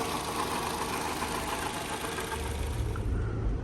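A 2015 Toyota RAV4 engine idles steadily after a radiator fan replacement, an even mid-pitched hum with a faint rhythmic knock that stays constant and close, with no talking.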